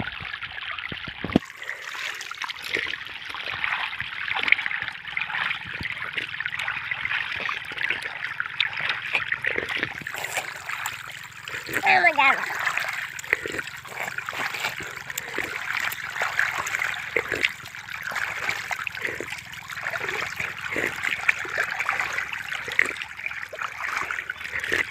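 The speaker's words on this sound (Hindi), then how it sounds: "में पानी जा रहा है, हमारी जो फसल है ना इसी में जा रहा है अभी" Irrigation water streams steadily into a crop field, a continuous broadband rush and trickle that runs for the whole stretch, with scattered splashes and knocks on top and no talking.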